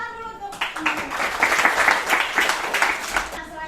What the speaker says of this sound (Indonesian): Oke, tepuk tangan dulu untuk